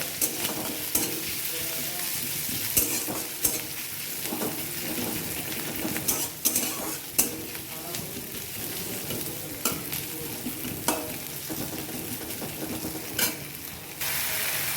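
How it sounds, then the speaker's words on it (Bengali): Garlic and green chillies fry with reddened onions in a pan, a continuous close sizzle punctuated by repeated spatula scrapes and taps throughout. "এখন আমি এটার মধ্যে রসুনটা আর কাঁচা লঙ্কা দিয়ে দিচ্ছি।"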